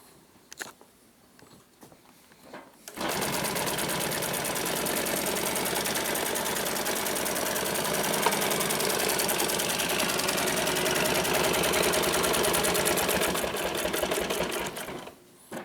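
A twin needle long arm walking foot sewing machine, model NC1560L, with a 9mm stitch length and a self-oiling mechanism, runs in a steady, fast, even rattle for about twelve seconds, with quiet handling noises before and after.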